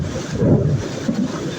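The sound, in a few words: heavy rain at night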